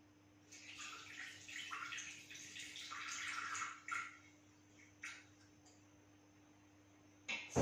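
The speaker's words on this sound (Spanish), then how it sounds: "vamos a poner 100 gramos de agua" 100 grams of water being poured into a Thermomix bowl, a faint splashing trickle lasting about four seconds, followed by a couple of soft drips and a light knock at the end.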